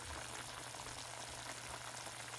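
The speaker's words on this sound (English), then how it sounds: "So now it's boiling, right?" Braised pork ribs in soy sauce simmer in a pan, giving a faint, steady hiss of soft bubbling with no talking over it.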